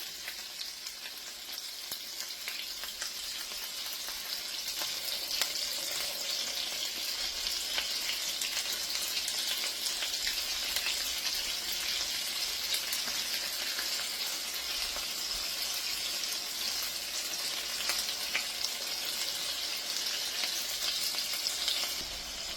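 Turkey burgers sear in a hot pan with a steady, dense sizzle and crackle that holds loud and close throughout, with faint scrapes as the patties are flipped.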